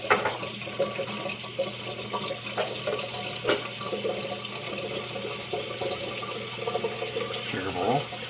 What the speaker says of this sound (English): Get this fountain filling up.